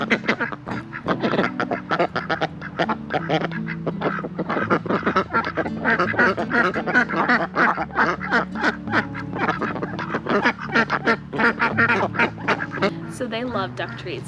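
Ducks quacking and honking as they dive and play in a backyard pond, a dense, continuous chorus of overlapping calls close by throughout, with some voice-like sounds mixed in.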